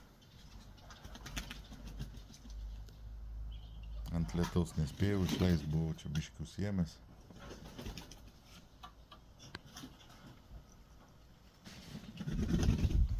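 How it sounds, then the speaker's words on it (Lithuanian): Pet pigeons bathing, with soft cooing and wing flutters under a man's speech in the middle and a burst of splashing and flapping near the end. "mano paukštukai, matot, maudosi antrą dieną"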